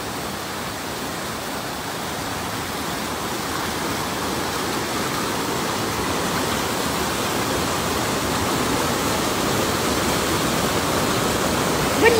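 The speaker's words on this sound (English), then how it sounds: "It is raining, but not so bad in the woods, but the brook, oh my." A swollen brook rushes through the woods in the rain, a dense continuous roar of water close by that builds slightly louder over time, with no talk.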